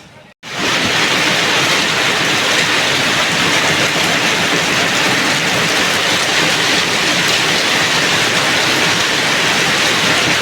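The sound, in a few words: heavy rain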